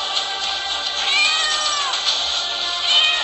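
Cartoon cat meowing in an animated rescue scene, with a pair of drawn-out mewing calls, the second arriving late, loud and close over a bright, thin soundtrack.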